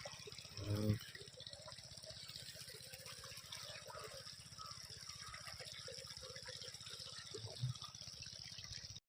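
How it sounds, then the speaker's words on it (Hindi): Water pumped by a tractor gushes steadily into a farm field, a continuous rushing flow heard at close range, with brief voices speaking over it near the start and again toward the end. "गाइस ये पानी दिला रहा है खेत में,"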